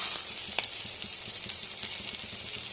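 Tomato pieces sizzle in a pan with frying mint leaves for egg dum biryani, giving a steady, close hiss with faint crackles and occasional stirring clicks.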